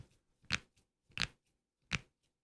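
Knuckles cracking as fingers are deliberately popped, three sharp close crunchy cracks spaced about two-thirds of a second apart in an otherwise quiet room.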